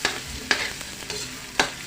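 A chicken dish sizzles in a pan while a utensil stirs and scrapes it, producing a steady frying hiss broken by a few distinct scraping strokes, close and without talk.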